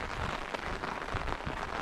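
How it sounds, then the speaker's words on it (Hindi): Steady, continuous rainfall in a mountain village makes a dense, even hiss of drops hitting surfaces nearby. The sound carries on without a break, and no voices are heard. "कंटिन्यूसली बारिश लगी है भाई"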